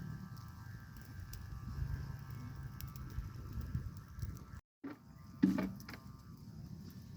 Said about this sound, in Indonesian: Itu adalah bunyi sendaran layang-layang.